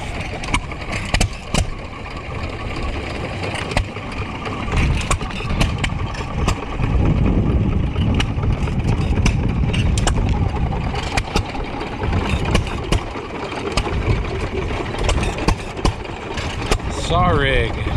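Old Reeves engines run at an antique machinery show, a steady mid-pitched engine chug with intermittent clanks and knocks, while people talk nearby over the running machinery.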